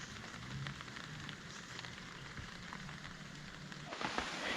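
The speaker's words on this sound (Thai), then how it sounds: "ฝนลงเม็ดแล้ว" Steady rain falls outdoors at a treehouse build site, a soft continuous patter and hiss on surfaces that holds even throughout and swells slightly near the end, with no voices.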